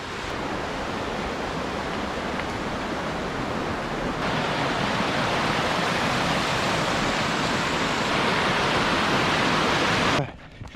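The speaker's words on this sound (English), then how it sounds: "We're going to be crossing the Guinea Brook" Guinea Brook water rushes steadily along a mountain trail near Mont Blanc, a loud, continuous broad hiss that holds without a break before cutting off abruptly at the end.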